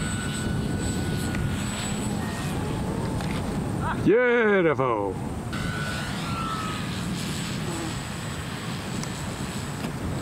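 Small RC model airplane engine droning steadily overhead in flight at an outdoor field, a continuous moderate whine with a brief rising pass, under occasional spoken comments.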